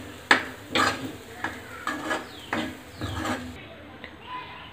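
Cluster beans with grated coconut being sautéed in a pan: a handful of scraping stirs against the metal with a soft sizzle beneath, close by and fairly quiet, with a little speech in the background.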